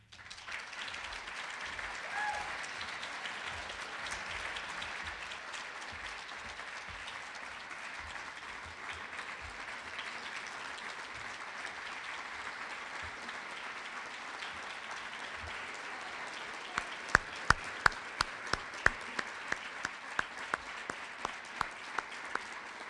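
A crowd applauding at a Canton Township event, the clapping steady and full throughout, with a few sharp, louder individual claps standing out near the end.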